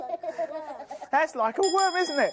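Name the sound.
bus bell ringing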